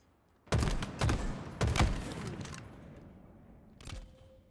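Gunfire in Halo Infinite ranked multiplayer: a few loud, sharp bursts of shots in quick succession, then a fading tail and one more shorter burst a few seconds later, with no talking over it.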